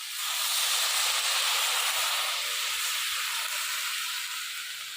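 A splash of water hits a hot pan during Bengali village cooking of fish-head, soybean and flat-bean mustard curry, setting off a loud, steady steam hiss that fills the clip and eases slightly toward the end.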